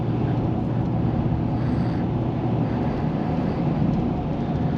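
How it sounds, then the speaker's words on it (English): Steady wind rush and road roar fill the cab of a 2023 Ford F-250 XL FX4 with a 6.8L V8 cruising at 70 mph, with wind buffeting around the mirror in a constant, fairly loud, unbroken wash. "There's a little bit of wind noise now around the mirror area"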